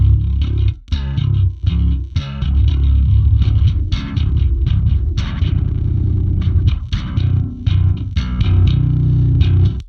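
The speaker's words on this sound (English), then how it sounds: "we have a modulation pedal that sounds something like this." A bass guitar runs through a Seismic modulation pedal, producing loud, distorted, wobbling notes in a choppy rhythmic riff with repeated plucked attacks and warbling effect, played alone up close.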